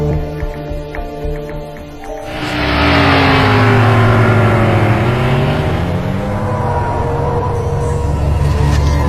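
A car engine rises from quiet into a loud, sustained drive, revving and accelerating close by with a steady droning hum, used as a sound effect in a horror story.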